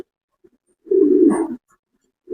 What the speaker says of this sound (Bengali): এটা হচ্ছে একটা বড় পায়রা নর কবুতর